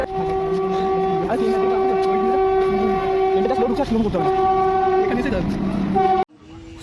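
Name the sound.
train arriving at station platform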